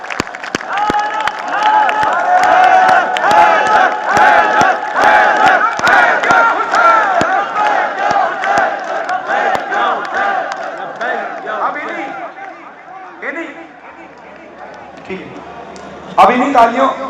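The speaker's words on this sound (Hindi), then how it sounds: "अब आपने लब्बैक या हुसैन के नारे लगाए" A large crowd at a religious Jashan celebration for Mola shouts the Labbaik ya Hussain slogans together, loud sustained chanting voices with scattered claps, fading toward the end before a final burst.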